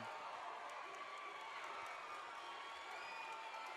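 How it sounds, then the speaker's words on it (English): A gym crowd at a high school playoff volleyball match cheers and applauds after the Lady Panthers win a set, a steady, dense wash of distant cheering and clapping with no break. "the crowd goes wild here in the Domingo Sepulveda gym"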